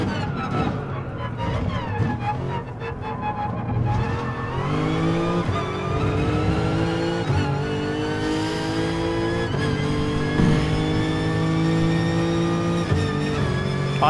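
An Alfa Romeo race car engine in a racing video game drones and revs with harmonic whine, climbing in pitch through gear changes, loud and sustained, with faint tyre squeal and speech mixed underneath.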